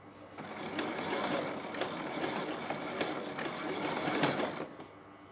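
Sewing machine stitching a shirt collar, a steady fast mechanical whir with rapid needle clatter running nearly continuously, close up, with brief bursts of faster stitching throughout.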